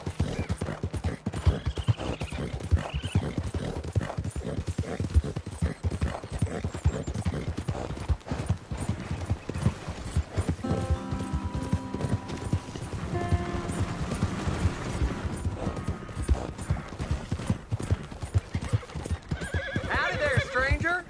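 A horse clip-clops along at a steady pace in a wild west setting, hooves close and loud, with several whinnies breaking through while people talk.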